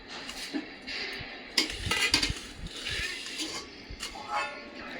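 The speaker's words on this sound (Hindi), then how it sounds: "मेरी मम्मी देखो चैन नहीं है बिल्कुल, अब बर्तन धोने पहुंच गई है" Dishes, pots and utensils being washed at home give off intermittent clinks, knocks and clatters over running-water hiss, at moderate distance, with faint talk in the background.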